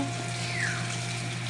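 Water running steadily from a tap where people are bathing, a constant close hiss and splash with no breaks, level and unchanging throughout.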